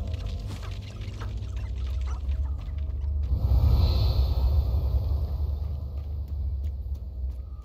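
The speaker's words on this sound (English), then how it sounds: "The waterfall." A waterfall in Hogwarts Legacy roars as a continuous low rumble and broad rushing wash that swells midway and stays steady to the end.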